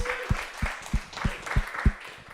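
A few hands clap in a loose, regular rhythm, about six distinct near claps, with people talking over them.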